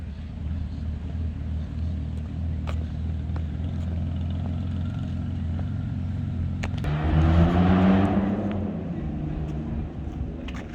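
Triumph Rocket 3 touring motorcycle idling low in a bumpy parking lot, then revving up and riding off with a rising engine swell before settling back to a steady rumble, with faint clicks throughout.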